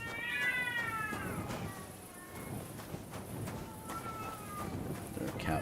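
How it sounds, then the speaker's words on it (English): Cats yowling and meowing in a cat fight within the medieval role-playing game Kingdom Come: Deliverance 2, drawn-out wavering cries over a low rumbling background, fairly faint and with a voice talking briefly. "Is there a cat fight?"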